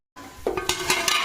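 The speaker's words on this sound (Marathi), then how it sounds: "ते चांगलं असं मिक्स करून घ्यायचं" Sabudana khichdi is stirred in a pan, starting after a brief silence with soft sizzling and several quick scraping strokes of a utensil against the pan, close and fairly loud.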